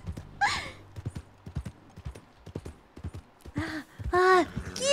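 Horse hooves clip-clop and a horse whinnies in the open world of Red Dead Redemption 2, with hoofbeats falling in irregular bursts and a loud neigh near the end.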